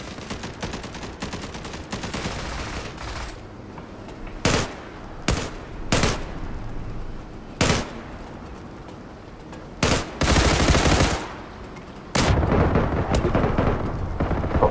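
Bursts of automatic gunfire in the online shooter Zula, steady rattling fire at first, then several sharp separate shots and short loud volleys spaced across the stretch, close and loud.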